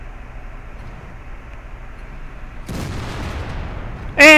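A Rhm.-Borsig Waffenträger tank gun fires in World of Tanks: a quiet engine rumble breaks into one loud, broad blast that roars and fades, then a sharp tonal sound hits at the very end.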